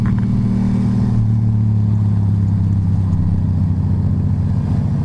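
A motorcycle engine runs steadily in second gear on a rainy coastal road toward Meat Cove, a loud, continuous low drone with a slight pitch shift partway through.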